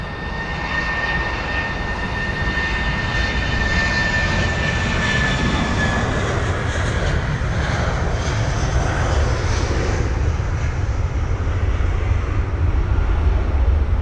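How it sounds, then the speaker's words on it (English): Airliner departing London Heathrow and passing by, a loud, continuous roaring engine with a thin high whine that fades after several seconds while the rumble stays strong to the end. "we have got a departure that's going to pass by soon"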